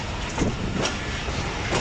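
Shah Hussain Express running past a GU 49005 container train at the Hyderabad outer signal, giving a steady, close rumble of rolling wheels and rail noise with faint rhythmic clatter. No one speaks.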